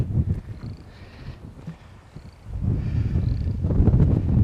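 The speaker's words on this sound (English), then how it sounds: "Oh man, it's windy." Gusty wind buffeting and rumbling during a storm in Minnesota or Iowa, dropping briefly before surging louder again, with a few faint chirps in the distance.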